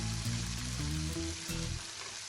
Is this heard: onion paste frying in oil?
yes